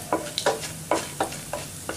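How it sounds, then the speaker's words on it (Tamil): Chana dal stirred and frying in a pan for cauliflower poriyal, with about six distinct scraping stir strokes over a faint sizzle, close and fairly quiet, no talk. "கடலைப்பருப்பு போட்டுக்கலாம், வந்து போட்டுக்கலாம். இது வதங்கட்டும்,"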